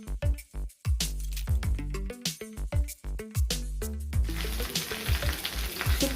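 Curry leaves frying in hot oil in a kadai give off a crackling sizzle that grows into a steady broadband hiss in the second half, heard under prominent melodic background music.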